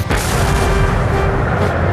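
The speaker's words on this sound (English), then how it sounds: "Napoleon ordered a barrage of his most powerful cannon." A barrage of powerful cannon artillery booms in a dense, continuous roar, loud and close, with no distinct gaps between shots.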